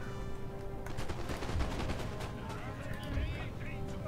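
Muskets and cannons fire in a Napoleon: Total War battle, with dense crackling volleys and heavy booms over constant battle noise, with voices talking underneath.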